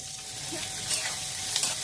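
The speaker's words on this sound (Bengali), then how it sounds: "একটু ভাজা ভাজা করে নেব" Chopped onion, garlic and chili fry in a blend of oil and butter for a homemade veg burger, giving a soft, steady sizzle with a faint stir or two, fairly quiet and with no voices.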